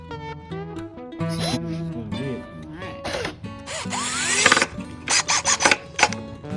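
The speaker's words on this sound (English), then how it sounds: "Using a Sawzall, we are taking these knobby things off the top of the chair" A Sawzall reciprocating saw cuts the knobs off the top of a pallet-wood chair in short, rough bursts that build louder toward the end, with voices talking in between.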